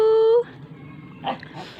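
A dog lets out a sustained high whimper for under half a second, then quieter, muffled vocal sounds follow and a short louder burst comes near the end.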